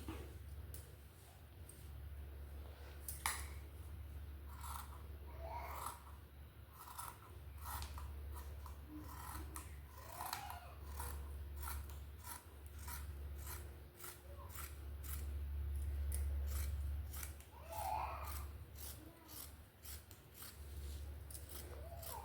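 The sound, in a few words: scissors cutting nighty fabric for panel anarkali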